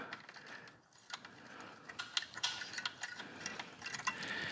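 A latch flipped up on an Inmotion RS electric scooter gives faint, scattered mechanical clicks and small taps over a quiet background, with a few sharper snaps toward the end.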